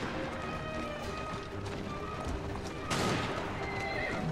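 A horse in Assassin's Creed Syndicate whinnies amid hoof clatter and galloping, with a sharp burst of noise near the end; the neigh sits close and fairly loud over the game's ambient clutter.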